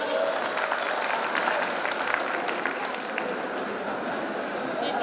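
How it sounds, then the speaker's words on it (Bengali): Applause at a 2023 office event: a crowd clapping in a steady, dense wash that holds for the full five seconds, with voices mixed into the noise. "করতালি"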